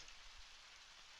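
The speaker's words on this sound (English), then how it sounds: "Ah, rain. Stepping on puddles without a care in the world." Steady hiss of rain falling on surfaces in the video game Undertale Red and Yellow, a dense, even patter throughout a short stretch with no voices.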